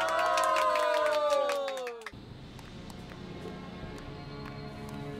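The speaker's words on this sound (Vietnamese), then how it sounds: "Xin một tràng pháo tay." Crowd cheering and applause at a wedding ceremony break out as loud music cuts off, then continue as a steady, moderately loud clamour.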